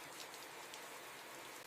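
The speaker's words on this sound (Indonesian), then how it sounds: "Di luar, suara hujan beradu dengan genting" Rain falling on roof tiles at night, a steady, even hiss of drops that stays soft and constant throughout with no voices.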